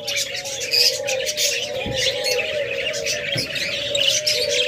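Pet lovebirds, cockatiels and budgerigars kept for sale chirp and tweet steadily in a dense, close chorus, with a low electrical hum running underneath and no talking.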